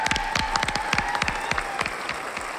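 Audience clapping for choreographer Kebika at a dance competition premiere, a steady burst of many hands throughout, loud and close.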